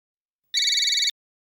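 A mobile phone rings with an incoming call: a single short burst of bright, warbling electronic tone, clear and isolated against silence.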